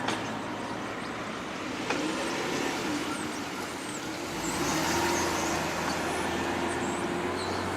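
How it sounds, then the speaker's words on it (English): Vehicles drive out of a base, a steady low road rumble of engines and tires with a slight swell midway, distant traffic noise, no talk. "Got vehicles exiting the base."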